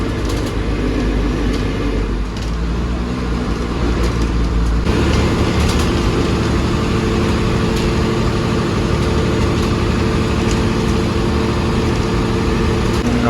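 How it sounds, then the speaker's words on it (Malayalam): Steady, loud engine drone of a Tata-built KSRTC Minnal express bus running on the road between Trivandrum and Palakkad, a continuous low rumble heard from inside the cabin with no pauses and no talking. "വണ്ടിയുടെ എൻജിൻ നോയ്സ് കുറച്ച് കൂടുതലാണ് കേട്ടോ ടാറ്റയുടെ വണ്ടിയാണ്"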